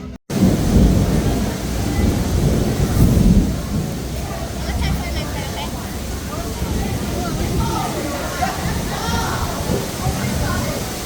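Thunder rolls through a Caribbean thunderstorm at sea aboard a cruise, loud deep rumbling over steady rain, with people talking in the background.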